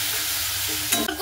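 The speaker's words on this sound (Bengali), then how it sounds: "ভালো মতো করে একটু নাড়াচাড়া করে নেব।" Kohlrabi with salt and turmeric is stirred in a hot pan: a loud, dense, steady sizzle close up, then a brief clatter of the spoon against the pan at the end.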